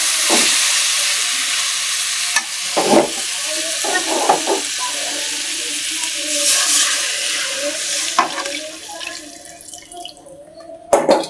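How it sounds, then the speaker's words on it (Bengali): Warm water is poured into a sizzling pan of frying katla fish curry with potato, eggplant and beans, hissing and bubbling, with a spoon clinking and stirring at intervals. "এটার মধ্যে হালকা গরম পানি ছেড়ে দিন"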